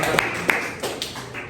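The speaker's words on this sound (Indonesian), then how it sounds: "beri tepuk tangan untuk kelompok 1" Brief scattered clapping in a high school classroom for the first student group, a few sharp claps spread out over a second and a half with voices murmuring underneath.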